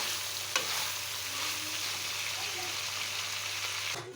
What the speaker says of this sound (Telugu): ఒకసారి కలుపుకుంటే నూనెలో కొంచెం సేపు మగ్గనియాలి